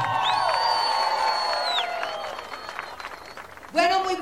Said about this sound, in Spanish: Ahí está el aplauso, doctora, bienvenida